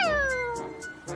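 A cartoon cat gives one drawn-out meow that slides downward in pitch, fairly close and clear, with faint soft pulses behind it.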